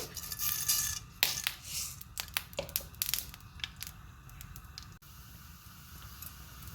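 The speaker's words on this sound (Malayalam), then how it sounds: "കടുക് പൊട്ടിക്കഴിയുമ്പോൾ നമുക്ക് കുറച്ച് ഉള്ളി ചേർത്ത് കൊടുക്കാം" Mustard seeds pop and crackle sharply in hot coconut oil in irregular bursts that thin out, leaving a soft steady hiss.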